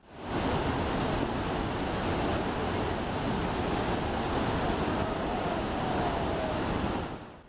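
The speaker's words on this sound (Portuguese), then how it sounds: "enquanto ela despenca pela cachoeira" Torrent of water roaring over Hukou waterfall on the Yellow River, a steady, dense broadband rush that holds constant and loud throughout, with no voices.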